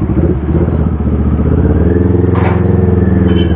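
The engine of a CFMoto NK650 motorcycle idles just after starting, loud and close, with a steady throbbing rumble and a few light mechanical clicks.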